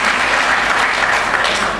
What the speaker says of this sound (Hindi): उनका भी जोरदार तालियों से इस्तकबाल कीजिए